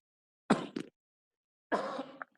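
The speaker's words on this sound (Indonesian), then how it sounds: "Maaf saya batuk." A teacher coughs twice during a Java programming class, each cough a short, harsh burst, with a pause of about a second between them and silence around them.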